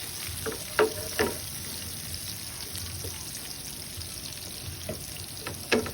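Garlic fries in melting butter for a garlic butter sauce, a soft steady sizzle with a few sharp stirring clinks and scrapes scattered across the pan.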